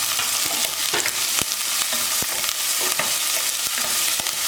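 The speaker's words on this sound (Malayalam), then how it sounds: "ഇതെല്ലാം ചേർത്ത് ഒന്ന് സോട്ട് ചെയ്തെടുക്കാം. ഞാനിപ്പോൾ സോട്ട് ചെയ്യുന്നത് ലോ ഫ്ലെയിമിൽ തന്നെയാണ്." Onion, carrot and curry leaves sautéed on low flame in a pan for broken wheat upma, with a steady close sizzle and repeated sharp scrapes of stirring at irregular intervals.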